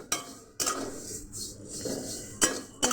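Metal pots, pans and cutlery clink and clatter in a home kitchen as cooking of semai (vermicelli) begins after a potato curry is finished; several sharp knocks ring out loud and close at irregular moments, with no one talking.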